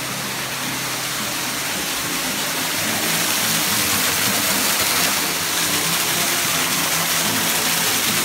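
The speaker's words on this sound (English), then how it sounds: "There's a waterfall over there." Steady broadband rush of a waterfall inside a greenhouse at Shinjuku Garden, continuous and fairly close, with a constant hiss and no voices.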